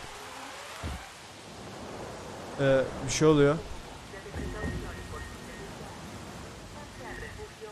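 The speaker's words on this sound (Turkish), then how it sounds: "Yağmur yağıyormuş." Rain in the video game Jurassic World Evolution, a steady hiss of falling drops with occasional low rumbles, while players talk over it.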